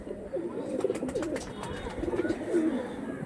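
Pigeons of the Andhra kalsira line coo softly in low rolling bursts, repeated several times close by against a faint background hiss.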